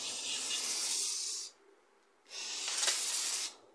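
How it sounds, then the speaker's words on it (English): WD-40 aerosol sprayed onto the blades of a Mac Allister MHT 1855-Li 18V cordless hedge trimmer, two steady hissing bursts of about a second and a half each with a brief pause between, close and fairly loud. "to oil the blades, just simply get a bit of WD-40"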